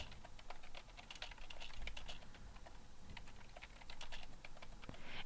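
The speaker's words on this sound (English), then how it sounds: "type in your search terms" Steady computer keyboard typing while search terms are entered into a library catalog, a quick run of close key clicks with brief pauses, no voices.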